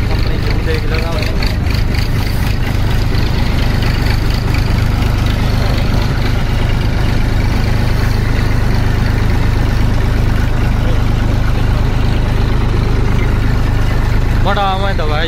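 Massey Ferguson MF 1035 tractor engine running on the road, a loud, steady low diesel drone with a throbbing rumble close by, continuing throughout with a faint voice briefly near the end.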